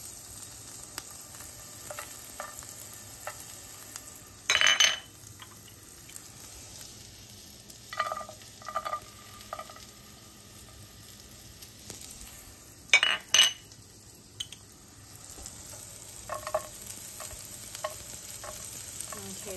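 Garlic sizzling in pans, a soft steady hiss underneath occasional sharp scrapes and clinks of utensils stirring against the metal, close and fairly quiet.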